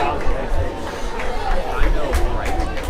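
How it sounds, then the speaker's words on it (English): Crowd cheering and applause at a Suffolk Voyagers vs. Edenton Steamers baseball game, a steady broad roar of voices and clapping from the stands with no single call standing out. "Some ovation from the crowd here."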